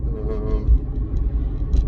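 Steady low road rumble from a Dacia Spring electric car being driven, a continuous close hum and tyre noise without pauses or revving, with no talk over it.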